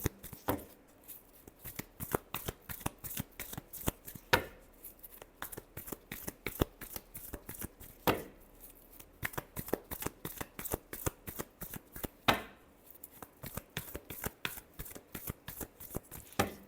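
Tarot cards are shuffled by hand in rapid riffling bursts, soft and close, with sharp slaps of the deck every few seconds and no talking.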